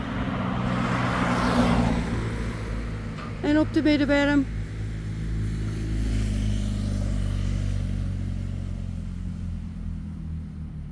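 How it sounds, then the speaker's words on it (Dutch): Road traffic rolls past on a busy main road in Germany, a continuous rumble of engines and tires with a brief rev in the middle, while a person speaks nearby. "Door het verkeer."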